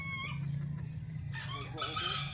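Bantam chickens clucking close by in a short burst of soft calls, with a higher squawk near the end over a constant low background hum.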